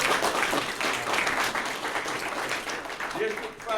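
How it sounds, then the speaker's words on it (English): Applause from the audience at a county commission meeting, dense clapping filling the room for a few seconds, with voices talking over it. "All right, I need to give this man a round of applause."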